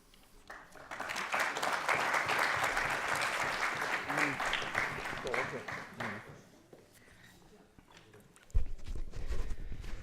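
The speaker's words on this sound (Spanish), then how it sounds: "muchas gracias por el aplauso preventivo" Sustained audience applause, dense and fairly close, swells for about six seconds and then fades out; a voice starts talking afterwards.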